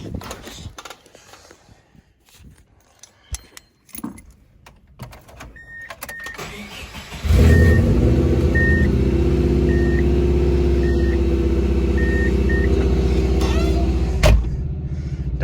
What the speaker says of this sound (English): Start her up and see if she runs.